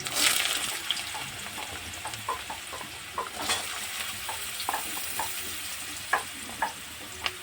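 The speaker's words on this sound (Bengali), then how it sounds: "আলুগুলো আমি ভেজে নেব ভালো করে" Potatoes fry in hot white oil for ghugni, starting with a loud burst of sizzling that settles into a softer crackle punctuated by stirring clacks against the pan, with no voices.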